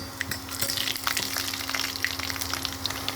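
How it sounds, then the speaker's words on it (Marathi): Garlic sizzles steadily in hot ghee in a pan on an induction cooktop, a soft continuous frying hiss dotted with small pops and crackles, close and fairly quiet. "लसूण फ्राय होत असते तुपात"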